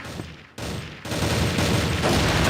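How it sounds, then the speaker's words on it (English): Sustained gunfire in a competitive CrossFire match, a dense, steady rattle of shots that drops out briefly twice and then continues loud and unbroken. "I see bullets being fired."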